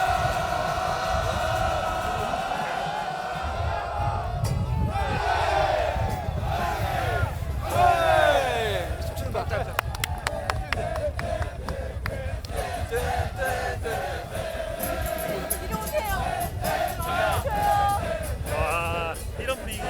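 Fans in a football stadium at an FC Anyang match roar and applaud the players, a loud massed crowd din with bursts of clapping and chanting throughout, plus nearby voices.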